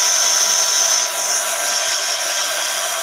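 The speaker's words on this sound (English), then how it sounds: "I'm just going to give those boots a good blast dry" A hair dryer blast-drying a pair of boots, a loud, steady high-pitched whine of airflow that holds at close range with a slight shift in tone partway through, alone with no voices.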